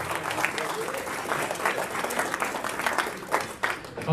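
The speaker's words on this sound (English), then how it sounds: "Let's have a big round of applause for all the partners who showed up" Audience members at an East Chapel Hill Rotary meeting applaud in a steady, moderate round of clapping that runs throughout, fairly close and even, with faint voices underneath.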